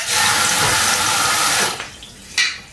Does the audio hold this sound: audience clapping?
no